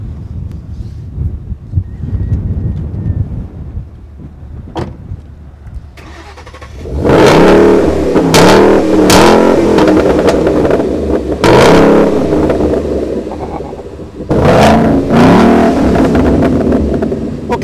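A 2011 Roush Ford Mustang or SLP Chevrolet Camaro SS ZL575 muscle car idles quietly at first, then its engine bursts into loud, close revs: several sharp blips and sustained roars with brief drops between them.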